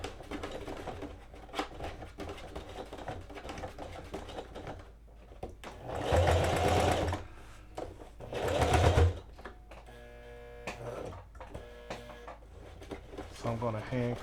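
A sewing machine stitches patchwork denim pants in steady rhythmic bursts, the motor running louder around the middle, with a lighter, slower hand-cranked stitching toward the end and talk alongside.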